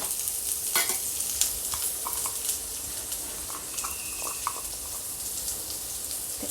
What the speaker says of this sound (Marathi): तेल जास्त गरम झालं त्यात आपण टाकूया 2 इथे मी कांदे घेतले आहे. मीडियम साईजचे कांदे आहे. याला भाजून घेऊया.